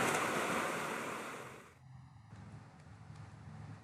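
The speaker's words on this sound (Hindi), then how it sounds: "समुद्र, लहरों का शोर सुनिए और आनंद लीजिए" Ocean surf rolls and washes against the shore, loud and broad at first, then easing into a softer, steady wash of water with a little wind noise.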